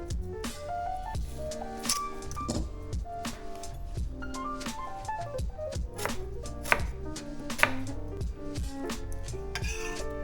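A knife chops an onion on a cutting board in quick, steady strokes, crisp close knocks repeating rapidly with slight clinks, continuing without talk.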